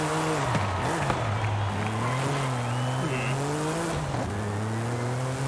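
A 1987 Buick Grand National GNX on a test drive in Forza Horizon 5, its engine droning loud and steady as the revs climb and drop between gear shifts, with a brief tire squeal.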